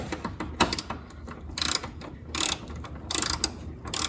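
A hand ratchet tightens new lock nuts on a BMW Z4 shock, giving close, crisp bursts of rapid clicking in short repeated strokes with brief pauses between them.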